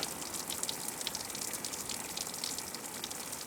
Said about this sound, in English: that little trickle of water is like the first water we've seen in probably 4 or 5 miles